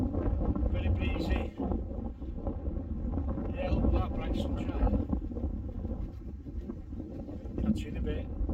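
Strong wind buffets the microphone at a winter carp fishing spot, a steady low rumble with gusts rising and falling throughout and no pauses.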